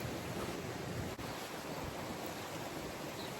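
Wind and surf on a Caribbean reef shore, a broad steady rush of waves and gusting air buffeting the microphone, faint and unbroken with no voices.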